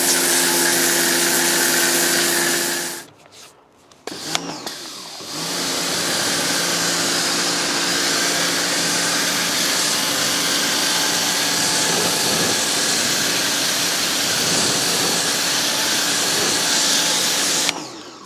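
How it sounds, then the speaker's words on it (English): BIGZZIA pressure washer blasting weeds outdoors, a loud steady hissing roar of the spray that cuts out briefly for about two seconds, restarts with a sputter, then runs unbroken to the end. "Pressure washing is so satisfying, you could carry on for ages."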